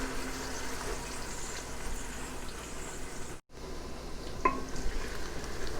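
Onions fry in oil with a soft, steady sizzle at moderate distance, briefly cut off for a moment mid-way, then resuming with a faint clink of a utensil.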